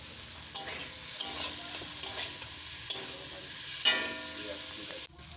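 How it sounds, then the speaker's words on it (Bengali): Spatula stirring fried potato, drumstick and soybean into cooked spices in a sizzling pan: steady frying hiss with five or six distinct scraping knocks spaced about a second apart, close and clear, then a sudden stop. "এবার ভাজা আলু, ডাঁটা, সোয়াবিন সব দিয়ে নেড়ে নেব"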